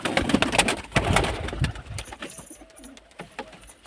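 Pigeons cooing close by, soft repeated low coos with wing and scuffling noises, louder at first then fading, no talk.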